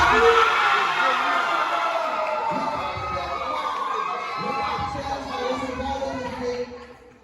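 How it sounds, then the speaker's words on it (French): A crowd of schoolchildren cheers and shouts at a trophy ceremony for the champion team of an ecology competition, a loud, continuous wash of young voices that holds steady before dropping away at the end. "Je vous demande d'applaudir."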